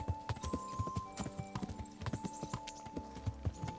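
Rhythmic clip-clop of horse hooves trotting steadily in Kingdom Come: Deliverance, with a sustained musical tone underneath and no talking.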